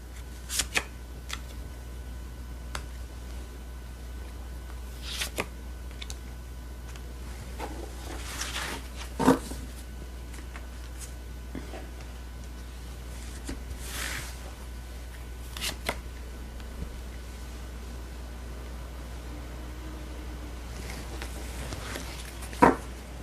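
Tarot cards are shuffled and drawn in soft papery riffles and sharp occasional snaps, close and intermittent across a quiet room.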